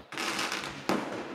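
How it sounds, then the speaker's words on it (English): Fireworks go off outside on New Year's Eve, a continuous distant crackling and rumble with a louder burst near the end, heard alone. "Them fireworks are so annoying"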